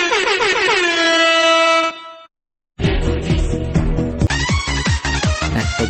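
A sound effect from a Bonkyo F999 Max soundcard blares as a loud air-horn blast, cuts to a short silence, then a busy burst of honking and layered effect sounds follows, close and alone.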